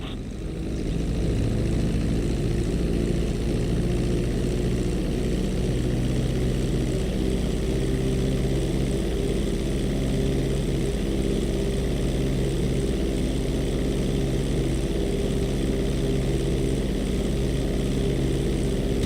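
An airplane's engines drone loudly and continuously during a landing approach in GTA V, a steady propeller hum sustained throughout without any voices.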